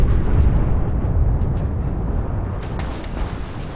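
A fuel tank explodes in a film set aboard an icebreaker stranded in the Antarctic, a loud rumbling blast that fades slowly, with a sharp crackling burst breaking out partway through.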